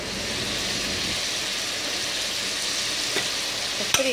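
Food fries in a pan with a continuous dense sizzle, steady and close, and a brief clatter near the end.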